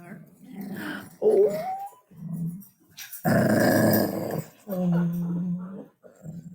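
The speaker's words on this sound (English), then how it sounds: "He's my parents' dog." A big pet dog indoors whimpers and growls in drawn-out bursts close by, with someone speaking softly between and over the sounds.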